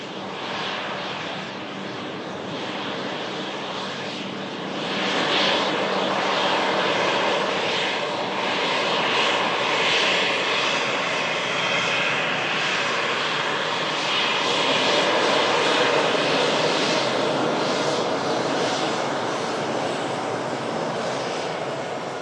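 An Austrian Airlines airliner in Starline special livery passes overhead at a plane-spotting spot, its engines a steady broadband roar that swells after a few seconds and holds loud and close for the rest of the pass.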